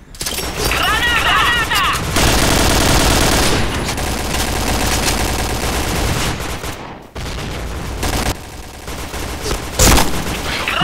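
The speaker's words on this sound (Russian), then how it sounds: "Граната!" Dense, continuous automatic gunfire and explosive blasts from the Point Blank shooter game, with rapid bursts, heavy booms and brief lulls, loud throughout with occasional voices mixed in.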